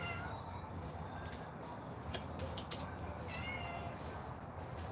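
A cat meows several times in the background of a busy indoor room, its calls faint and mid-distance under steady ambient noise.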